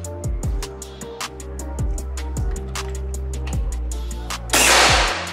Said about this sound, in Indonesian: Next yang terakhir tembakan yang kelima.